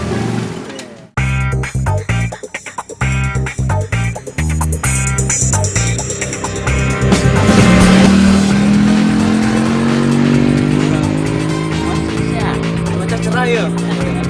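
A motorcycle engine sputters and idles in uneven bursts, then revs up into a sustained, rising whine that stays loud and near, while voices talk over it at the start.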